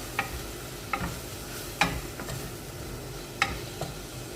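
Broccoli and green peas being stirred in a pan, with a few sharp scraping clicks spread over a soft, steady sizzle underneath.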